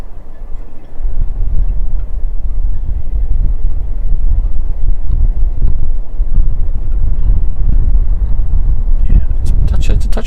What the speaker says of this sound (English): The breeze has picked up.